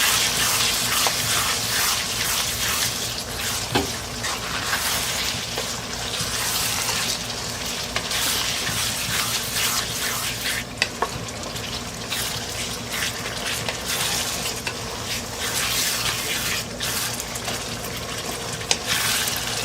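Minced keema with about four tablespoons of yogurt is stirred in a pan for Pakistani khara masala keema, a continuous wet bubbling hiss with occasional spoon clicks throughout, close and fairly loud, with no talking.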